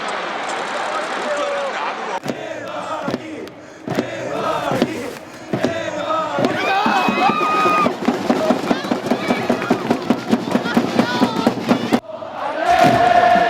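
Stadium crowd of about 28,000 spectators at Jeonju World Cup Stadium for a Jeonbuk Hyundai home football match, a loud continuous roar with cheering, chanting and rhythmic claps and drum-like beats, voices mixed throughout.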